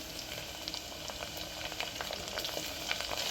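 Fenugreek leaves frying in hot oil with light-browned onions for a mutton keema curry, a steady soft crackling sizzle with scattered pops throughout, no voices.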